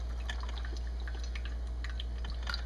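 French vanilla creamer poured from a carton into a cup of coffee, giving a faint, close trickle and a few soft drips over a steady low hum.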